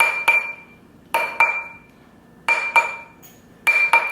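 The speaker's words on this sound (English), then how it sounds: "hammering it all around the ring. Rotating it." A metal stacker ring is hammered on a steel mandrel, giving bright ringing metallic clinks in pairs, four quick double strikes evenly spaced, loud and close with no talking.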